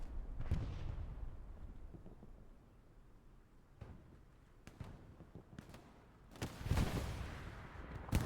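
Rocket blasts and explosions in the Hell Let Loose battlefield game arrive as several sharp booms, a few of them distant and one closer and louder near the end, with no voices over them.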